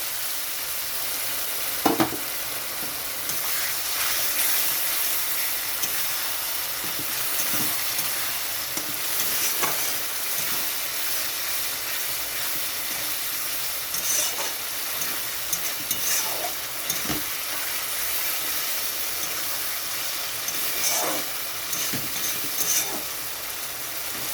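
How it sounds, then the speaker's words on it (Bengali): Giant freshwater prawns and potatoes sautéed in a pan with a splash of water, a continuous hissing sizzle with occasional knocks and scrapes of stirring, close and steady. "এখন এটা খুব ভালো করে কষিয়ে নেব এখানে আরও একটু জল দিয়ে দিচ্ছি কষানোর জন্য"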